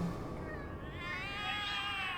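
Cats meowing and caterwauling in the horror video game The Cat Lady, a continuous wailing chorus of several cats at moderate level over a dark ambient game soundscape, with no talking.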